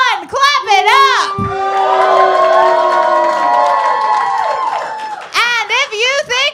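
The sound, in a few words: audience clapping and cheering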